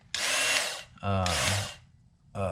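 Work Sharp electric knife and tool sharpener motor whirring loudly in three bursts, switching on and off with short pauses between runs, close up with no talking.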